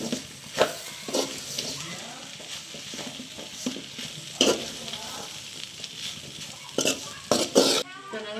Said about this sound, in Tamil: சிக்கன் குழம்பு விடுவோம் அளவாக விடணும் நிறைய விடக்கூடாது பழியாக போயிடும் கலந்து விடுவோம் எல்லாத்தையும்